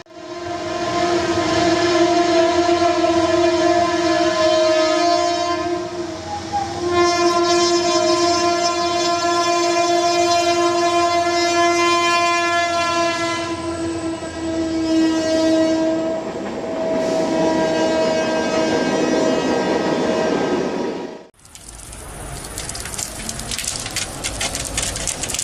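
A train in Argentina barrels through flooded tracks without slowing, its loud sustained horn blaring for about twenty seconds over the rumble and clatter of the cars, then cutting off into a harsh rushing roll.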